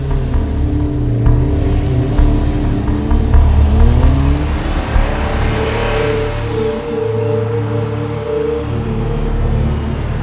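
A white Toyota Innova drives by, its steady engine hum and road noise rising and shifting over about ten seconds, with gear-change swells partway through.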